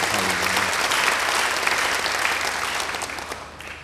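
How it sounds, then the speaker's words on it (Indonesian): A church congregation bursts into loud, sustained applause, a dense wash of many hands clapping that stays strong for several seconds, then eases off slightly toward the end. "Beri tepuk tangan yang baik bagi kalian."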